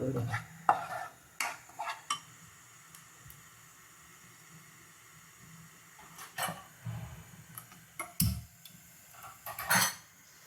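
Spicy chicken curry in a pan over a full gas flame is stirred with a spoon, giving intermittent scraping and clinking strokes against the metal, moderately close, with quiet gaps between bursts.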